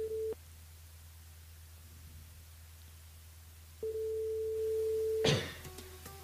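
A telephone ringback tone sounds while a mobile phone is being called, a steady single pitch heard in two separated stretches, the second ending in a click and line noise.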